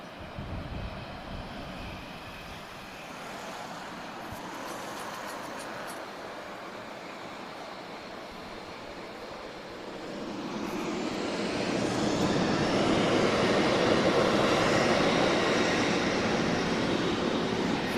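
A Boeing 737-800 airliner departs Lisbon Airport for Ponta Delgado; a distant engine rumble swells midway into a louder, broad jet roar that stays strong to the end.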